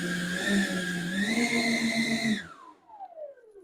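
Twin electric ducted fans of a repaired RC composite Eurofighter jet spin up indoors, a loud close whine with steady tones that shuts off and winds down in a falling pitch.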